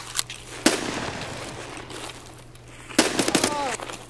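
Gunfire in a shooter video game: two sharp bursts of shots, one early and one near the three-second mark, over a steady low hum with a voice talking between them.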